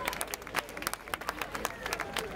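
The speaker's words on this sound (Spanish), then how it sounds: "Un aplauso para eles" Scattered audience clapping at a village festival trophy ceremony for a Tute card tournament in Zarracós, a brief burst of uneven claps from a small crowd mixed with chatter.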